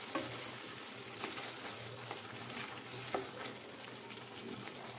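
Poppy seed paste with a little water fries in a pan, giving a low steady sizzle with soft scraping stirs and a few brief utensil taps, no talking.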